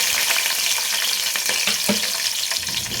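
Green chillies fry loudly in a pan, a dense close sizzle with scattered pops and stirring scrapes, no voices.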